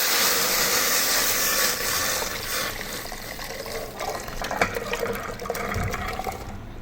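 Water pours steadily into a cooking pot holding homemade herbal shampoo ingredients, a continuous splashing, gurgling fill that softens and thins toward the end, heard close with no talking.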